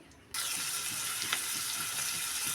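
Onions drop into heated oil for potato bondas and break into a sudden loud sizzle that holds steady, with faint stirring clicks underneath and no talk.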